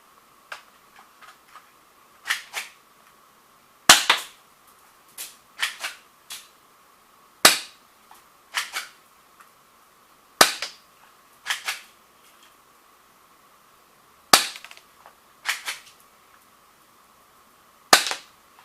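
Airsoft gun shots hitting a target in an experiment, a long series of sharp, loud cracks in irregular single and double bursts over a steady background hum, with no talking.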